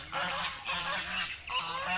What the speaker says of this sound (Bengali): এই যে আমাদের রাজহাঁস